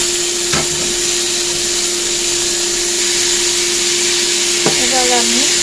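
Cauliflower, potato and tomato pieces hit a hot pan with a steady broad sizzle, with a couple of sharp clatters as they drop in, plus a constant tonal hum behind.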